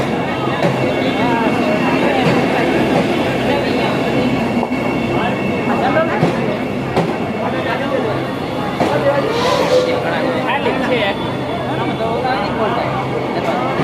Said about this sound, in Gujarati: તો બહુ સરસ મજાની જે છે ટ્રેન દેખાય હરી.